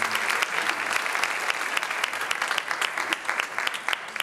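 A crowd applauds steadily after a band's live stage performance, a dense wash of clapping with no pauses.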